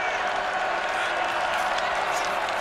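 Football stadium crowd at a Temple Owls vs. Army Black Knights game on third and 18, a steady, dense roar of cheering and noise holding throughout without a break.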